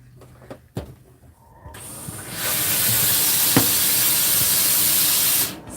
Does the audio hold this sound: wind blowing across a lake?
no